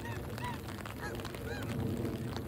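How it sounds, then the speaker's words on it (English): Geese honking nearby in a confined group, several overlapping nasal calls repeating in quick bursts over a steady low background murmur, with no talking. "Ooh, the cute geese are here."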